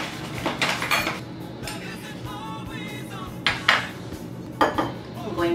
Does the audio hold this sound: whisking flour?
yes